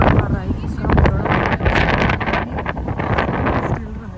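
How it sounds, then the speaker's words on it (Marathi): Strong cold wind buffets the microphone near Sydney Harbour, loud rumbling gusts rising and falling continuously, with a voice faintly talking underneath. "थंडी आहे, बोलता येत नाही इतका वारा आहे"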